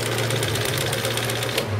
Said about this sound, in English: And you put your foot down, and the machine sews.